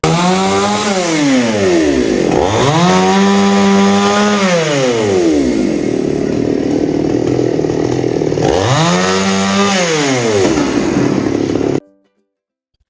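A chainsaw cuts mango tree branches in loud, close bursts, its engine repeatedly revving up and dropping back to a rough idle before stopping abruptly.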